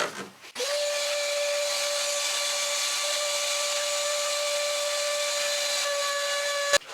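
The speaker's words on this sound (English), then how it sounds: "I just got my shop vac here, and we're just going to vacuum up some of the dirt off the top" A shop vac runs steadily at close range while vacuuming dirt off the top of the 5.3L engine in a Chevy Avalanche, a loud constant whine and roaring airflow that switches on and cuts off abruptly.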